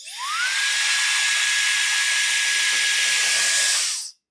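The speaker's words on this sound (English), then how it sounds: "Let's try this hand dryer feature real quick. Let's just see how this works. So we turn it on." A Mera MHDU01 hair dryer runs in hand-dryer mode, spinning up with a rising whine into a steady, loud high-pitched blowing rush for about three seconds before cutting off abruptly, with no talking.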